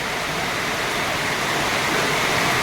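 Rainwater drips and trickles steadily into an outdoor fishpond, forming a continuous broadband wash like a small stream with no distinct separate drops.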